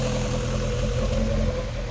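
A Rover 25 GTI engine idles high and rough while over-fuelling, a steady mid-pitched hum with a faint uneven clatter, close and continuous with no voices.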